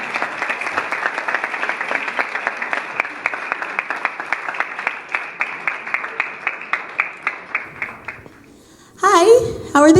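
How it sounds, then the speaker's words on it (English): Warm audience applause at a 2018 alumni gathering: steady, dense clapping from a crowd that rings on for several seconds, then fades out as voices and talk take over. "please give a warm round of applause for Mr."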